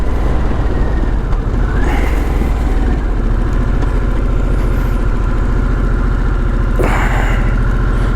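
A 2022 Harley-Davidson Sportster S motorcycle engine runs on a ride, making a loud, steady low rumble mixed with constant wind noise and no speech.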